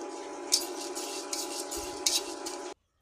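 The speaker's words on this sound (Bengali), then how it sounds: "ওটস আর মুগ ডালটাকে একটু নেড়ে নিব হালকা" A metal spoon scrapes and clinks against a pan while oats and mung dal are stirred, several sharp close scrapes over a soft background hum, ending abruptly in silence.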